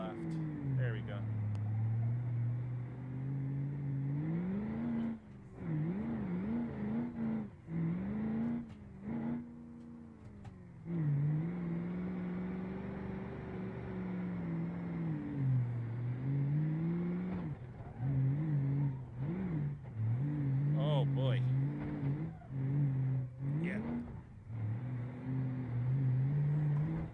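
Gavril Roamer LXT35 truck engine in BeamNG.Drive with degraded handling, a steady droning hum that rises and falls with throttle changes and briefly cuts out, continuing throughout under intermittent talk.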